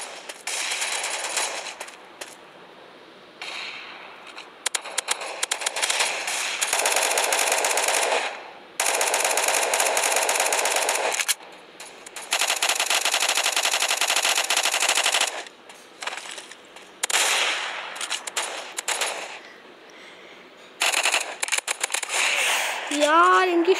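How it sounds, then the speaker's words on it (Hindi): Shotgun and rapid gunfire in the mobile shooter game Mask Gun come in loud, repeated bursts separated by short gaps across the match, with a voice talking over the action. "ये शॉट गन से ऐसे ऐसे अटैक्स कर रहे हैं ना।"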